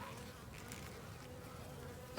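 Honey bees from a wild swarm clustered along a wall, giving a steady, close, continuous buzz with no talking.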